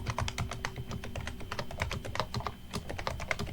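A password is typed on a computer keyboard, a close, steady run of quick light key clicks with irregular rhythm and a few firmer taps, no voices.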